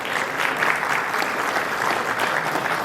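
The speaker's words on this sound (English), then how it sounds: "Please welcome him with a round of applause." Audience at a conference applauding to welcome a keynote speaker, a dense, steady round of many hands clapping that fills the room throughout.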